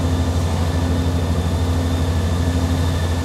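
A heavy two-car Great Western Railway diesel train engine hums steadily and fairly loudly, a constant low drone with a faint high whine over it and no talking.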